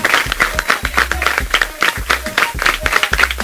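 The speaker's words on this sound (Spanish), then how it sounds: "Vamos a darle un aplauso a esta mamá y a esta representante y a la directiva" A studio audience on a sports TV programme applauds a mother, a representative and the board of a dance foundation. The clapping is loud, close and rhythmic and forms a sustained round of applause, with some scattered voices mixed in.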